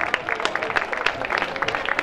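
Audience applause at an outdoor Sagra del Bombolone singing event in Casenuove, Empoli: dense, steady clapping from a crowd, moderately near and continuous throughout.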